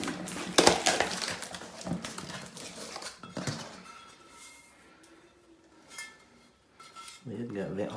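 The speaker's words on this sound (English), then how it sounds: "Open the lid and be sure it's not cracked or broke or damaged" Delta toilet lid being unpacked and handled, with loose clatters, knocks and scrapes of plastic and packaging coming in irregular bursts close by, then quieter handling noise with a voice speaking briefly near the end.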